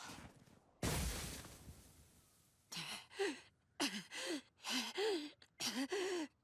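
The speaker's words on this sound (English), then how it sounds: "He's hyperventilating." A Naruto anime character hyperventilates in a series of rapid, strained gasping breaths, close and urgent, following a sharp burst of noise.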